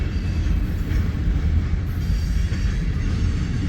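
An eastbound manifest freight train rolls past near Fremont, Nebraska, a loud, steady rumble of wheels and cars on the rails with faint squeal and clatter, no voices.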